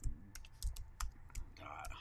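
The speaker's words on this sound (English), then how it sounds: "I'm going to type it in here in the chat." Short bursts of typing on a computer keyboard, with several quick clustered clicks at close range in a quiet room, a little faint background noise underneath.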